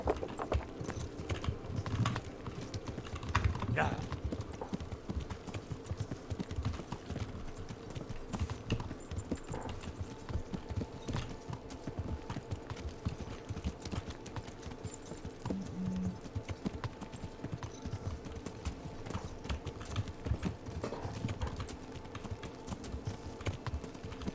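Horse hooves clip-clop at a steady walking rhythm in the medieval game Kingdom Come Deliverance, continuous throughout with faint background game sounds and occasional clicks.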